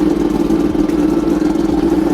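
A Yamaha Tenere motorcycle engine runs steadily nearby with a strong, even hum and mild fluctuations in throttle, no voices on top.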